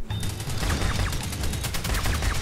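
Rapid automatic gunfire from a weapon in Destiny 2 Crucible multiplayer, a dense, loud stream of repeated shots rattling steadily across the whole stretch with no talking.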